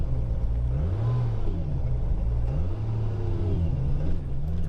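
A 1000 HP single turbo BMW E90 335 with DCT creeping into a car park, its deep engine rumble close by, pitch rising and dropping through several quick downshifts into first gear.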